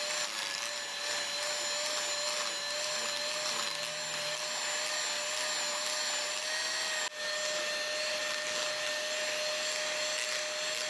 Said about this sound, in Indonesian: Mixer menggunakan kecepatan tinggi ya teman-teman, supaya hasilnya bagus